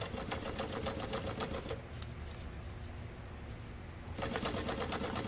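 A sewing machine top stitching a tote bag runs in fast rapid bursts, pauses for a couple of seconds, then starts stitching again, close and fairly quiet with no talking.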